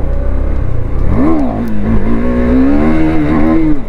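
A KTM Duke 390 motorcycle revs hard during a wheelie, its engine note climbing sharply then holding a loud, sustained high-rpm wail close by.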